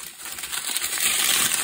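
Close, crisp rustling and crinkling of a plastic bag packed with diamond painting drills, continuous soft scratchy texture with faint clicks of tiny resin pieces, no talking.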